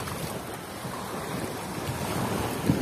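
Sea waves washing in at Batu Ferringhi beach on Penang island, Andaman Sea, at high tide; a steady close surf wash with wind buffeting the microphone, swelling slightly toward the end.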